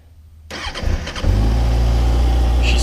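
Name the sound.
Kawasaki Ninja ZX6R motorcycle engine starting cold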